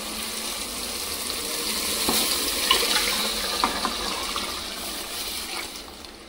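Tamarind juice poured into dal with vegetable pieces, a continuous close splashing and gushing liquid stream that swells and ebbs over several seconds without speech.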